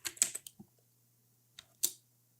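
Short bursts of keystrokes tap on a computer keyboard, a quick cluster of clicks followed by a pause and a final keypress, close and clear in a quiet room.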